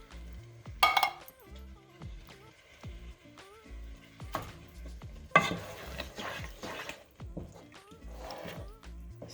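Spoon stirring taco meat mixed with Fiesta cheese in a pan, a close scraping and clinking with bursts of stirring, no talk.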